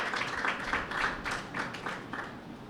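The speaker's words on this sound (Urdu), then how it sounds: "ان کے لیے بھرپور تالیاں" An audience at a Christian marriage seminar claps to welcome first-time attendees, a soft burst of scattered hand claps in a room, fairly faint and lasting a few seconds.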